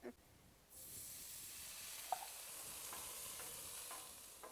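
Canned corn hitting brown butter on a Pit Boss griddle, a faint steady sizzle that swells up after a quiet start, with a few soft scrapes and clicks.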